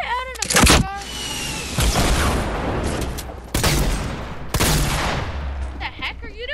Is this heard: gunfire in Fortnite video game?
yes